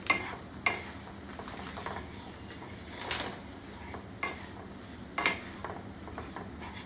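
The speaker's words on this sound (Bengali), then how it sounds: "এবার এটাকে ভালো করে মিক্স করে নেব।" Semolina being stirred in a pan for halwa, with quiet scraping and light sizzling and sharp ticks of the spoon against the pan every second or so.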